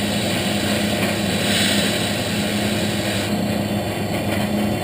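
Steady mechanical drone of a CNC machine drilling the final hole in a transfer case adapter, a continuous even whir with a faint tonal hum, close and unbroken.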